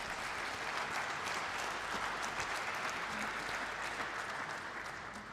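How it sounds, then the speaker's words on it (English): Dense, sustained audience applause for panelists at an energy conference in Namibia, a steady wash of many hands clapping at moderate loudness that tapers slightly near the end, with a faint voice underneath. "I'd like you all to give a warm round of applause, and thanks to our 3 remaining panelists."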